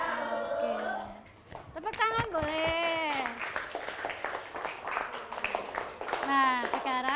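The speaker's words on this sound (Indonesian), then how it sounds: "Tepuk tangan boleh." Fifth-grade pupils in an elementary classroom clap their hands, a patter of small hands running beneath children's voices chanting together in a sing-song pattern, with the voices dominating most of the time.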